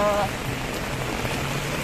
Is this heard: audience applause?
no